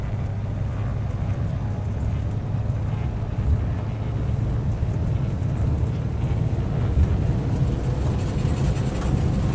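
The twin engines of a Beechcraft in a flight simulator throttle up on a runway, giving a steady, low droning hum with a windy rush that holds level and close throughout, with no voices.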